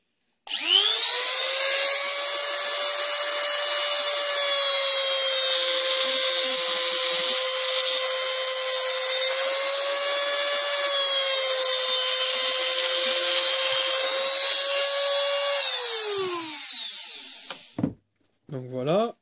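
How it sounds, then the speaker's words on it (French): A loud, sustained high-pitched whine of a small rotary tool cutting an LED off a TV backlight LED strip, holding steady for about fifteen seconds before winding down, followed by a few brief clicks. "je vais sectionner également une LED qui marche, ici"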